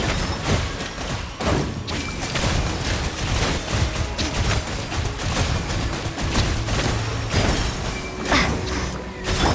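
Rapid bursts of bombs going off in Genshin Impact combat, a dense run of crashing, thumping blasts layered over steady game music and effects, loud and continuous with no pause.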